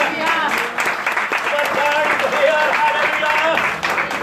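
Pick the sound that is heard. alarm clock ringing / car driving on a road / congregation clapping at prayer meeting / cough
congregation clapping at prayer meeting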